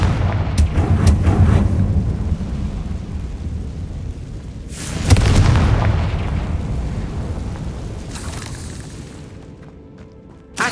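A Confringo fire spell blasts in a Harry Potter video game: two loud booming explosions about five seconds apart, each with a rumbling tail, over continuous low game rumble, followed by a short sharp crack at the end.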